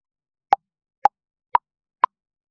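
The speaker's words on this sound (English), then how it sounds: "let's see what is its effect on a sharp transient pop sound" Four sharp, isolated pops, evenly spaced about half a second apart, each a short wideband transient standing alone against silence.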